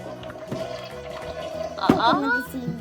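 A Barbie Dream House toy toilet flushes with a short watery whoosh and burbling, set among light clatter and background noise while someone talks.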